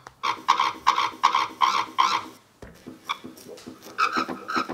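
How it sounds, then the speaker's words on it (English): A sampled recording of a very old elevator in Prague played back as abstract, rhythmic squeaking and chirping pulses in quick repeated bursts, then a pause and a second irregular run. "This is the sound of a very old elevator in Prague."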